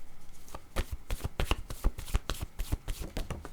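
Tarot-style word cards are shuffled and drawn, giving a quick run of crisp riffling slaps and flicks close by, with no talking over them.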